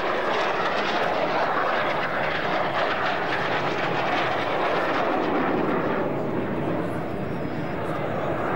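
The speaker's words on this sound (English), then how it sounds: "Both pilots now flying the aircraft to max performance." Red Arrows jets roar loudly and continuously overhead during an air display at Duxford, with a commentator speaking over the sound.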